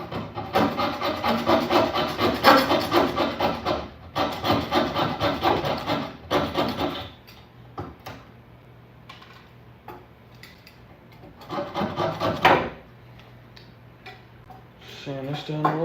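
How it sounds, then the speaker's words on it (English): Hand sanding an old wooden table leaf: rhythmic rasping strokes in bursts, a long scrubbing run, a pause with a low hum and faint talking, then another short burst of rubbing. "Sand this down a little bit before I put this back on the orbital sander."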